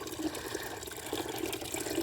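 A small garden water fountain in a hummingbird garden runs with a soft, continuous trickle and splash. The sound is faint and steady, with no voices.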